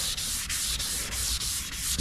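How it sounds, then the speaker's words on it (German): Coarse sandpaper scrubbing the plastic headlight lens of a Hyundai i10, a steady close-up abrasive rasp with rhythmic strokes repeating about every quarter second, no voices. "hier schleife ich jetzt wirklich"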